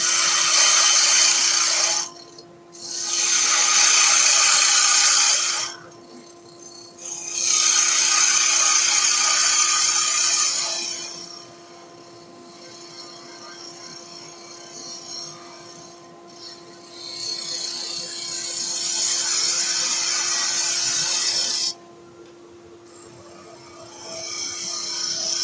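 A cutting tool on a wood lathe works a cove into a salt and pepper grinder, giving bursts of loud hissing, scraping cuts between quieter spinning spells with a steady motor hum underneath.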